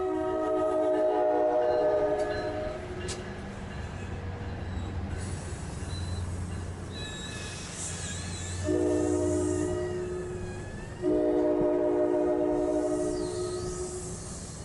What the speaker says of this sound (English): We catch a passenger train pulling into the station just before it approaches the end of the line at Highbridge